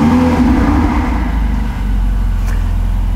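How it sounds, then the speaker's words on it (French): Ferrari 488 GTB engine running after ignition, a loud, raspy low rumble with a brief rev swell, steady and close, with no talking over it. "c'est rauque. C'est rauque une Ferrari de ce genre"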